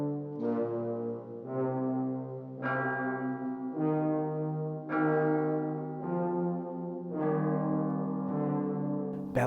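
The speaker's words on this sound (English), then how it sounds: "Bells sound from offstage." Offstage bells from Berlioz's Symphonie Fantastique toll slowly and loudly, about eight deep resonant strikes, each ringing out with a long decay before the next, heard alone.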